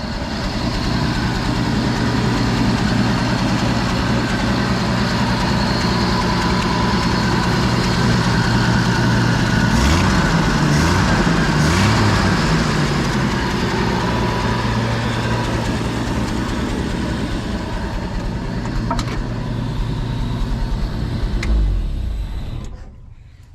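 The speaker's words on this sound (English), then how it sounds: "this thing runs pretty good. So as y'all can see, this is a 6-cylinder old Ford motor." An old Ford six-cylinder motor idling close by, a loud, steady low rumble that holds throughout with slight shifts in pitch partway through, then drops off sharply right at the end.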